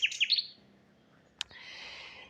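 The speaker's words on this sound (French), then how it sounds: "Alors vous entendez les oiseaux près de moi, ils s'en donnent à cœur joie ici." Small birds chirp and tweet close by, a few bright quick calls at the start, then a sharp single note and a soft steady trill of song continuing quietly afterward.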